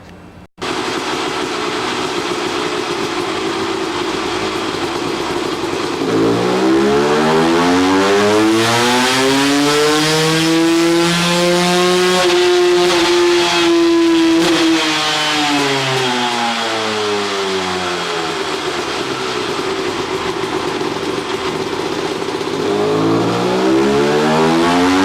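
A CR350 two-stroke motorcycle engine on a test run, loud and close, its pitch climbing in a long sweeping rev, holding high, then falling away before rising again.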